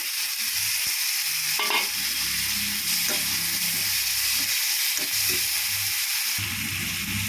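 Chopped onion and then tomato sauté in hot oil in a pan for a Tamil keerai kuzhambu, giving a steady close sizzle with occasional scraping stirs and no voices.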